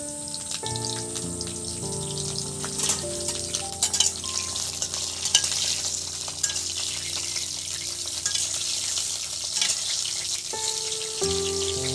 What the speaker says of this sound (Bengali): এবার দেখুন এই যে করলাটা তেলের মধ্যে আমি দিয়ে দিচ্ছি